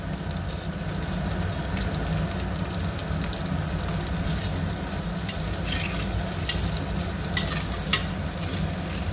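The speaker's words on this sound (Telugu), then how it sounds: "కొంచెం లైట్గా వేగనివ్వాలి." Onion and curry leaves frying in a pan for sorakaya pulusu, a steady close sizzle with faint stirring, continuous and moderately loud, with no talk.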